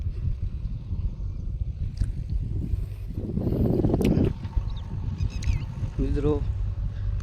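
A tractor running a rotavator in a peanut field gives a continuous low engine rumble, with people talking over it and a few brief higher chirps late on.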